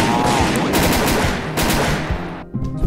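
Rapid bursts of gunfire in the video game Garry's Mod DarkRP, dense and loud with overlapping shots, fading out near the end.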